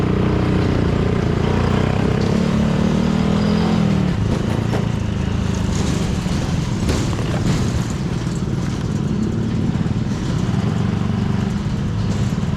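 Motorbikes carry six travellers together across a swaying suspension bridge in rural Indonesia, their engines droning steadily and loudly throughout, with rattling and clanking mixed into the continuous noise.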